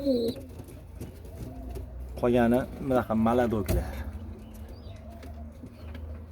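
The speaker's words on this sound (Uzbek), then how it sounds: "ular uchirib boqilayotgan kaptarlar" Pigeons kept for flying coo in a few rhythmic, throaty bursts close by, while someone talks over and between the calls.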